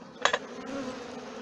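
Honeybees buzz steadily at a hive just after being released into it. A dense, low, continuous drone sits close by, with a brief louder buzz as a bee passes near, and no speech.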